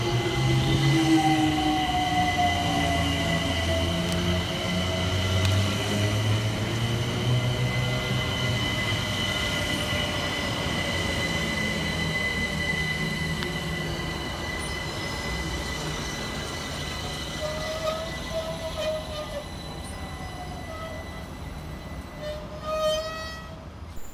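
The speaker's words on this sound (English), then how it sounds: "Arriving next into the station will be 378221, working the 1519 London Overground service from Stratford through to Clapham Junction." A London Overground class 378 electric train pulls into Imperial Wharf station, wheels rumbling and squealing on the rails as it slows, close and sustained, with faint tones near the end.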